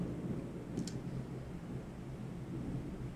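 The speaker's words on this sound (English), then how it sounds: "a wonderful storm right now" A thunderstorm rumbles outside as a low, steady wash of distant thunder and rain noise, faint and continuous with a brief crackle near the start.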